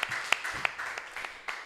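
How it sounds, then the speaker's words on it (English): Classroom applause after a student's presentation in an advanced class session at an Islamic boarding school, a handful of uneven, sharp claps from a small group, fairly close and loose in rhythm. "Give applause to Amin"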